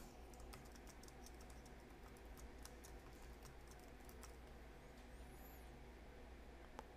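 Computer keyboard being typed on at close range, a quick run of light key taps with brief pauses while a survey name is entered, with steady faint background hiss and no talk.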